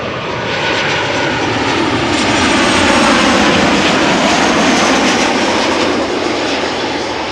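A Transavia passenger jet arriving from Verona at Amsterdam Schiphol roars loud and close, a sustained broadband engine rush that swells toward the middle and stays strong to the end, with no voices.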